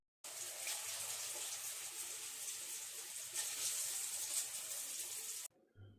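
A kitchen tap runs steadily as hands are washed beneath it, a close, even gush of water that stops abruptly, followed by brief quiet handling.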